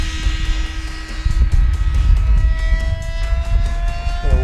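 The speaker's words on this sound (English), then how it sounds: "Now I'll go ahead and give it full throttle and come zooming down the runway here." A Banana Hobby Sky Surfer V5 RC plane at full throttle, its electric motor whining loud and steady close by, pitch holding and then shifting near the end as it speeds down the runway.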